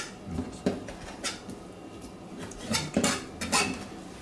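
Knife chopping webfoot octopus and mixed seafood into bite-sized pieces on a board for a seafood scorched-rice soup, giving several close, sharp cutting knocks and clatters at an uneven pace.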